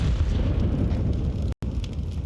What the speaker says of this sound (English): Flashbang on.